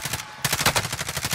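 Rapid automatic gunfire in Call of Duty: Modern Warfare Warzone, a dense run of evenly spaced loud shots after a brief pause, close and alone with no talk.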